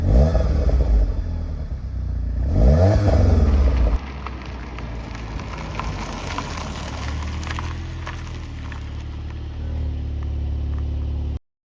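A 310 hp Audi TTS MK3 coupé with a 2-litre TFSI engine revs hard and accelerates, loud and close, then settles into a steady lower drone as it cruises along.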